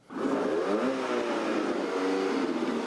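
An American muscle car engine revs hard and steady while pulling off pit lane, a deep throaty roar that climbs in pitch and holds loud throughout, close by with no talking.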